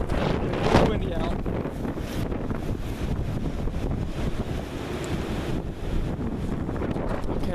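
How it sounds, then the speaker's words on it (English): Strong outdoor wind buffets the microphone in a snowy setting, a loud rumbling gusty roar that surges and eases across the whole stretch, with faint voices partly buried beneath it. "It's windy out."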